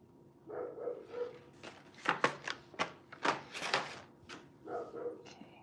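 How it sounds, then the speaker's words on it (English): A neighbour's puppy two doors down barks and yips in a quick irregular series, faint and distant, with short sharp bursts clustered together and softer whimpering calls at the start and end. "So that's how loud this puppy is."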